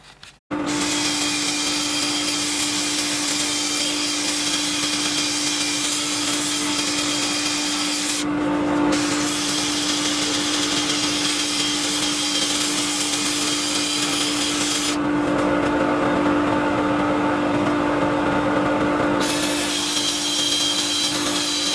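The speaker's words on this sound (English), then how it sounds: "Doing a bit of power sanding, especially on the edges" Loud, continuous whine of a power sander working the edges of a yew wood dish, running steadily with a few brief pauses and changes in pitch.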